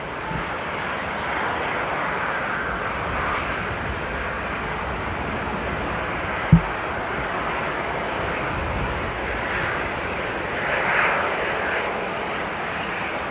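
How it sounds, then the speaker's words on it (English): A heavy airliner takes off at Amsterdam airport in the aftermath of a storm, its engines a steady, powerful broadband roar that holds throughout, distant and unchanging with no voices over it. "two really awesome powerful takeoffs there"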